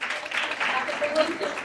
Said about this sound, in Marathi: जोरदार टाळ्या सर्वांसाठी